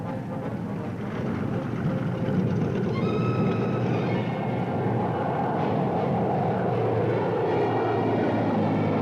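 A military aircraft engine drones steadily and loudly throughout, a continuous heavy roar with a whining tonal layer that rises in the middle and then settles, with no voices.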